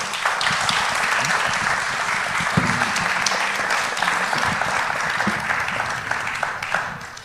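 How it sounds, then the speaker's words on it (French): An audience at a festival talk applauds its guests warmly, a sustained, even roll of clapping from a room full of people, steady and fairly loud throughout. "Je crois qu'on peut remercier et applaudir chaleureusement nos invités."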